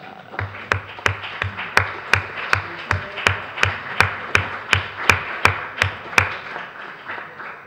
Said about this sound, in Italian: Forse vi alzate affinché possiamo applaudire.